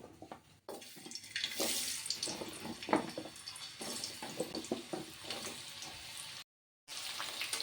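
Potatoes dropped into hot mustard oil in a wok sizzle and crackle loudly and close, a dense frying hiss with sharp pops, briefly cut to silence near the end.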